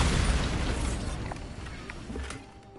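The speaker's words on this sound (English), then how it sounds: "Bombarda." Bombarda spell blast in the video game Hogwarts Legacy, a loud rumbling explosion that bursts at once and slowly decays with crackling debris over a few seconds, no speech.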